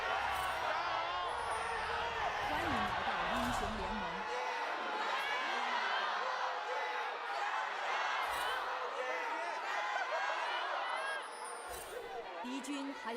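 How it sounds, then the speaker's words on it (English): Loud, dense crowd noise at the LPL esports finals, AL versus BLG, with a broad roar of cheering and whoops held steady throughout and dipping slightly near the end. "A raucous crowd today."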